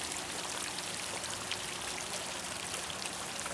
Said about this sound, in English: Water flowing over predominantly what we consider the front